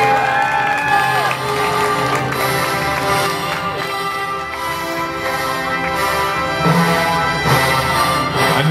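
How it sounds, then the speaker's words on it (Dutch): A crowd at a youth cycling race in Hechtel applauds and cheers a podium finisher, continuous loud clapping with whoops and shouts, including children's voices, under a busy outdoor din with music and chatter. "Uw applaus voor Joren van Hout"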